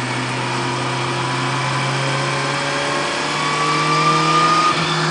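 2017 Suzuki GSX-R1000 engine running steadily on a dyno in fifth gear at about 60 mph with the exhaust nearly closed, a close, even mechanical drone that swells slightly louder near the end.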